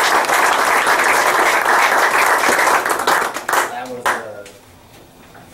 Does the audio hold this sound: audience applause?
yes